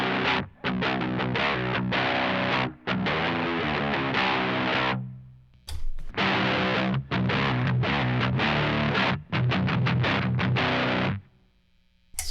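Thick, sustained electric guitar chords played loudly through an overdrive pedal, with brief stops between phrases and a fading ring at the end.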